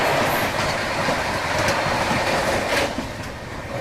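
Indian double-decker train running on rails from Delhi to Jaipur, a loud continuous rumble of wheels on track with a few faint clicks from the rails, heard close from inside.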